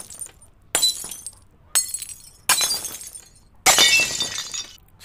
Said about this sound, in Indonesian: mereka sedang sibuk menenangkan Nesti, terdengar dari lantai bawah ini seperti ada gelas atau piring ataupun kaca yang sedang jatuh